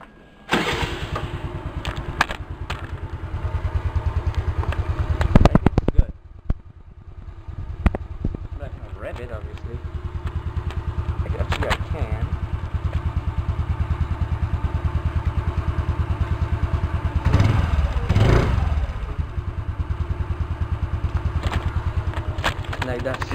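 A motorcycle engine cranks over, catches and settles into a rough idle, with a loud burst around the start and steady running after, while a person talks over it at times.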